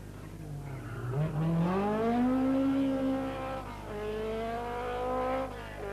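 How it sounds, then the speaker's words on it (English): A 1981 Ford Escort hatchback rally car on a stage of the Circuit of Ireland Rally, engine rising loudly through the gears in a close pass. The revs climb, dip, and climb again, with no voices. "Penty Auricola is about to make the international rally debut of the hatchback Escort"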